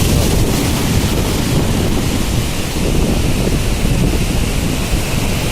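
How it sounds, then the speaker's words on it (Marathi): Strong sea waves surge and crash continuously at Nandgaon beach on the Konkan coast in the rainy season, a loud, dense roar of surf with heavy wind buffeting the microphone throughout. "हे बघा लाटा वगैरे जोरदार येतात"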